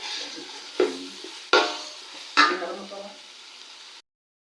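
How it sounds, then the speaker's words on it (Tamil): Onions frying in a pan for chicken biryani, stirred in three distinct scraping strokes over a soft continuous sizzle that cuts off abruptly near the end. "இப்போ வெங்காயம் நல்லா வெந்து வந்துட்டு இருக்குதுங்க."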